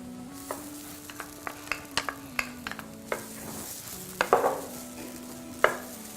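Stir-frying with spring onions sizzles steadily in a wok, broken by sharp repeated clinks and scrapes of a utensil tossing the food, close and alone.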